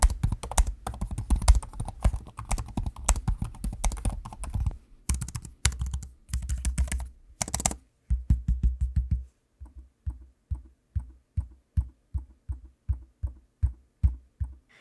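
HP Spectre x360 16 laptop keys clacking in a fast, busy burst of typing, then slowing to evenly spaced single taps, quiet and close with no talking.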